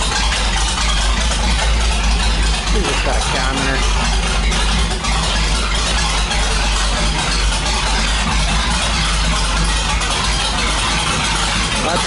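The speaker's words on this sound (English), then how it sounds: "It's idling way too low for my comfort." A loud, steady engine with a new cam idles too low with a low, even rumble and slight rattle, running continuously without revving.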